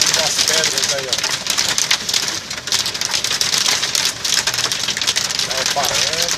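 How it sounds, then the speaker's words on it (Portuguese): Hailstones batter a truck during a hailstorm: a steady, loud clatter of countless hits on metal and glass, with brief squeaks near the start and end and a faint voice underneath. "Dá pra escutar aí o barulho das pedras aí, ó."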